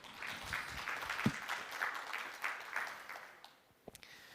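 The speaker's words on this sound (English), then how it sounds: "Let's welcome them both with a round of applause" An audience at a corporate energy event claps to welcome speakers, the applause faint and distant, steady at first before thinning into a few scattered claps.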